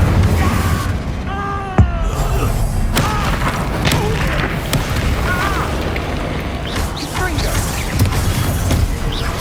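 Spell blasts from Confringo and Incendio in the Hogwarts Legacy video game, a dense run of booming impacts and bursts, with one sharp hit near the two-second mark, layered over continuous game noise and voices.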